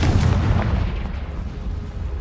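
A Confringo spell exploding in a Hogwarts video game: a loud, deep booming blast that rolls out into a sustained low rumble and fades slowly.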